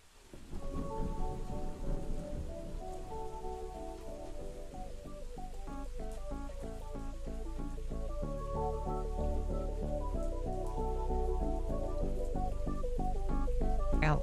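A recording of light rain plays as a steady patter, blended with a sequence of clear, repeating musical notes that grows slightly louder toward the end.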